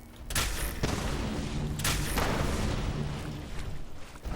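Zeta gun fired in a video game, a few sharp broadband blasts spaced over several seconds, loud and close over a continuous noisy game backdrop, no speech.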